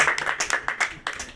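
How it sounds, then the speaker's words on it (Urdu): Congregation in a church breaks into applause, a dense run of overlapping hand claps with irregular sharper peaks, fairly close and steady for the whole stretch with no talking over it. "اس کے لیے زوردار تالیاں"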